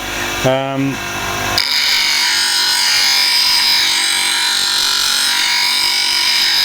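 A coarse grinding wheel of about 40 to 60 grit sharpens a woodturning scraper. A brief voice comes first, then a loud, steady grinding hiss and motor hum continue close up.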